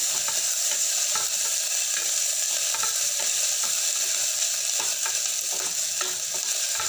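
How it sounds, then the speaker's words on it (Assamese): Chillies, bay leaf, cumin and ginger-garlic paste frying in oil in a pressure cooker while being stirred, an even loud sizzle broken by rhythmic scraping clicks of a spoon against the metal, close up with no talking. "এতিয়া গোটেইখিনি ভালদৰে ভাজি ল'ম"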